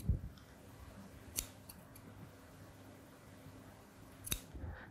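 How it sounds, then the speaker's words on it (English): Scissors snip loose threads from a knitted fabric seam, giving a few sharp, close cuts spread over a quiet background. "How about you cut off the threads"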